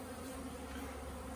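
A steady, dense buzz of many honeybees humming together at close range around their hives, continuous and even, with no voices.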